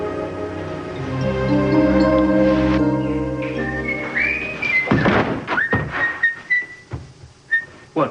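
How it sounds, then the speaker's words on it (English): Someone whistling a short tune indoors in an office, a few sliding whistled notes followed by a thunk and scattered short whistles, no speech. "What are you whistling about anyway?"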